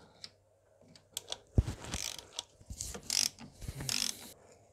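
Ratchet with an E10 socket working loose the fuel rail bolts on a Mercedes W220 S320 engine during intake manifold removal; a series of close, sharp clicking and metallic ratcheting bursts with short pauses between them.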